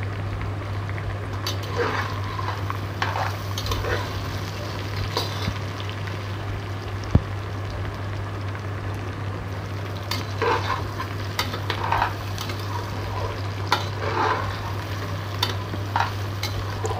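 Lentils roast dry in a clay pot with dried chilies, pepper, cumin, garlic and onion, giving a faint crackle under repeated rustling scrapes of a spoon stirring at a steady, unhurried pace, close by and without speech.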